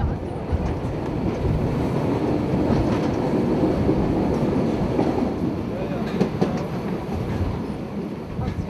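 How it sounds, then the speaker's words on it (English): An LGB model railway train rolling downhill into a valley on its line, a steady continuous rumble with faint clickety-clack of wheels on the rails, heard close and unbroken. "the train has begun to move again and now rolls down into the valley towards the next stop"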